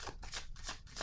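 Tarot cards being shuffled by hand in a quick run of soft papery riffles and swishes, close and steady with no talking.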